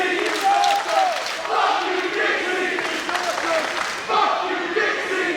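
An arena full of wrestling fans chanting together, voices swelling and dipping in a repeated cadence, loud and continuous, with a few individual yells cutting through.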